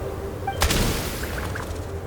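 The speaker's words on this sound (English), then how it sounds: "There's the gunshot." A single gunshot goes off in the video game Genshin Impact, one sharp crack with a short rumbling tail against a quiet backdrop.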